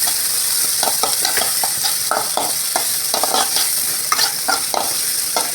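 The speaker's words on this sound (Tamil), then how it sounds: "ஸோ நல்லா வதக்கணும்." Sliced onions for chicken kulambu sauté in a hot pan, a steady close sizzle broken by repeated scraping and stirring strokes of a spoon against the metal, with no talking.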